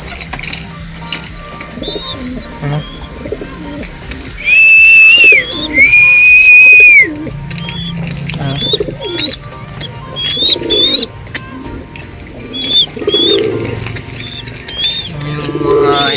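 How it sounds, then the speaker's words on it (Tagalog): Young pigeons in a loft coo and whistle in repeated short calls, with a couple of longer high whistles and bursts of wing flapping, close and fairly loud. "Nalaki ng mga young birds natin, guys, oh."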